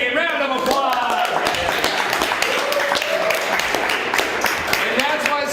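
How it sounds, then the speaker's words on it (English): An audience at a year-end stage performance claps steadily throughout, a dense patter of many hands mixed with crowd voices and talk. "And see, round of applause."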